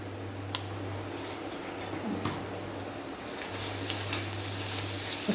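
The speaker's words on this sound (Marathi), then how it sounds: "थोडंसं तेलात परतवून घ्यायचं" A kharda paste of green chili, garlic and coriander sautéing in oil for pithla, a soft continuous sizzle with scattered crackles and ticks that grows louder toward the end, alone with no talk.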